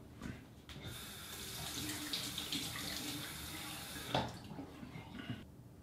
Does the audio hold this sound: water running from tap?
yes